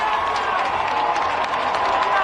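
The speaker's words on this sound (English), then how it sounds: "Thousands cheering when white smoke emerged from the chimney at the Vatican Sistine Chapel" Thousands of people in St. Peter's Square at the Vatican cheer over a new pope after white smoke rises from the Sistine Chapel chimney, a steady, distant roar of crowd noise.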